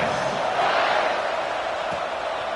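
Football stadium crowd at a San Diego State versus Texas game roars steadily through a kickoff, a loud, continuous wash of cheering with no pause.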